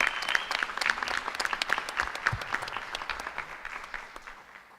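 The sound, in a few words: applause for a student at a board meeting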